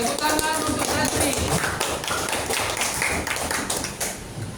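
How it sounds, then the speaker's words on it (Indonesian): Brief burst of children clapping in a classroom, rapid uneven claps that trail off within a few seconds. "Tepuk tangan untuk Nasri."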